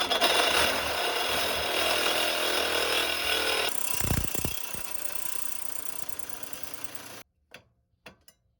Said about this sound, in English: So I'm gonna cut it off and see if the expansion chamber is actually an expansion chamber